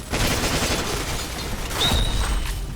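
Gunfire in the online shooter Point Blank, a rapid fusillade of loud, close shots with mechanical clatter and a booming burst near the end.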